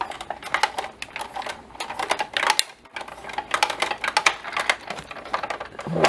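A cutting machine makes a single cut pass, its quick clattering, stuttering bursts running close and steady with a brief pause partway through.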